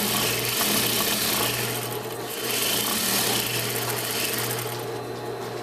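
Sewing machine stitching a half-inch seam on a pillow case, a continuous close mechanical whir with a steady hum and brief slight dips in speed, no talk over it.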